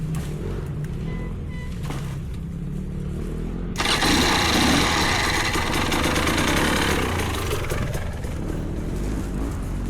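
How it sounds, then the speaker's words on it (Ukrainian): A KTM 250 dirt bike engine fires up partway through, jumping from a quiet outdoor background to a loud, close, steady buzzing idle that continues with a few small revs, with no talk. "Денис намагається завести содирчика КТМ 250"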